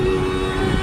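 A Mercedes car engine running rough and low on fuel, heard near the exhaust: a loud, steady rumble with a fixed tonal drone and uneven low-end pulsing over less than a second, no talk.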